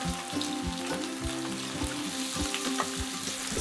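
Garlic, ginger, onion and mushrooms stir-frying in hot oil for beef chow mein, a steady close sizzle with regular scraping stir strokes and clinks of the utensil against the pan throughout.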